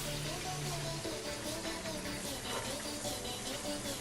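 Chopped ginger and garlic drop into a little hot oil for a chicken gravy, giving a steady, fairly loud hiss of sizzling that runs on evenly for several seconds.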